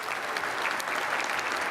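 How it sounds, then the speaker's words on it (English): Audience applause for a keynote speaker at a simplification talk, steady dense clapping from a large crowd filling the room, continuous and even throughout with no voices over it. "a round of applause"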